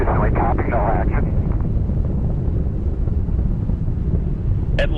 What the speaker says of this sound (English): all three engines now throttling down as the vehicle passes through the area of maximum dynamic pressure